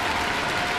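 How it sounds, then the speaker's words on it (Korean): Dense, steady applause from a standing crowd at a figure skating world championship ice dance free dance, a continuous wash of clapping with no break. "모든 관중들이 모두 기립박수를 해주고요"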